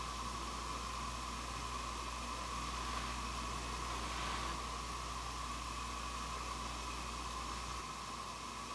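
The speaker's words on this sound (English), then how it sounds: "through the white noise spirit box on the stairs" Constant hissing white noise from a spirit box with a faint steady tone running through it, unbroken and fairly quiet throughout.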